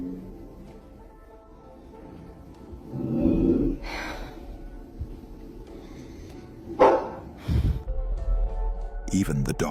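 A frightened dog at home makes a few short, scattered barks and yips amid household murmuring and breathy sounds. The barks are moderately close and come in brief irregular bursts.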